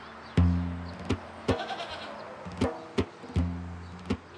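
Goats bleat repeatedly in a rural livestock setting, giving about six sharp, nasal calls at irregular intervals. The calls are close and fairly loud over a quiet background.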